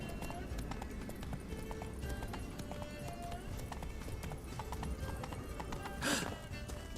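Geralt's horse Roach gallops in The Witcher 3 with a steady run of quick clip-clop hoofbeats throughout, then one loud whinnying neigh rises near the end.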